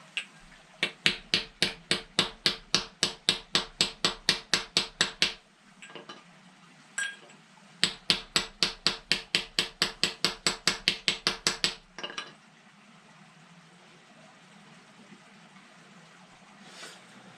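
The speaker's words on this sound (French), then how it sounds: "je vais essayer de le remettre plat à coups de marteau." A bent metal part being hammered flat, two long runs of rapid, evenly spaced ringing metallic blows up close, separated by a short pause and a few scattered taps, ending in quiet, with no voices.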